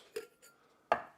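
Ice cubes dropped into a cocktail shaker for a Christmas egg yolk cocktail, giving a couple of sharp, close clatters separated by a brief pause.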